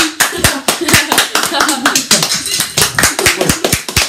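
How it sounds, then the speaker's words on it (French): A few people at a livestream celebration clap close by, a sharp, slightly uneven rhythm of loud claps that runs throughout, with voices talking over it. "Allez, on applaudit."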